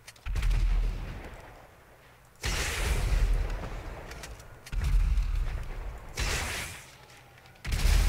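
Heavy gunfire in Grand Theft Auto 5, loud repeated bursts of shots and booming blasts in several separate volleys with quieter gaps between them.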